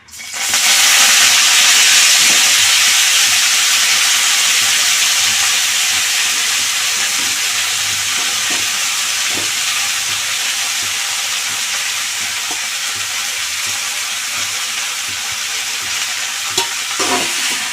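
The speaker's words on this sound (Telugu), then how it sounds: "మళ్ళీ స్పూన్ నూనె వేసాను ఇప్పుడు కొత్తిమీర వేపుకుందాలి" Coriander leaves hit hot oil with a loud burst of sizzling that slowly settles into a steady, hissing fry, close and continuous, with no talk and a faint clink near the end.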